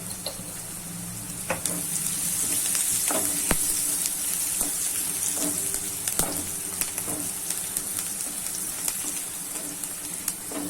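Chopped onions frying in hot oil in a pan for Gujarati vagharela rotli, a steady close sizzle with scattered crackles and occasional stirring clicks throughout, no talking.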